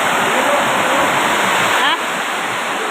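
Floodwater rushing in a steady, loud broadband roar, close by, with a brief shift in intensity partway through and no clear voices over it.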